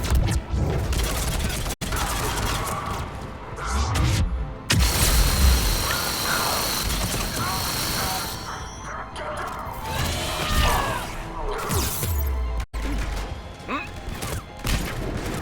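Gunfire and explosions rage in the Mass Effect 3 video game, a dense, loud, continuous battle din of shots, blasts and crashes, with voices talking over it.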